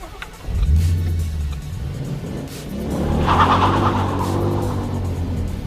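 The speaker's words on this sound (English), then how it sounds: "it's so refreshing to have a car that loves to do burnouts, and it will do it all day long" A Ford Mustang does a burnout close by, its engine rumbling and revving loudly while the tires squeal in a rising screech midway through, with no talking.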